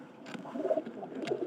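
A nesting pair of pigeons coos in low, rolling phrases, near and fairly clear, with a couple of brief sharper sounds breaking in.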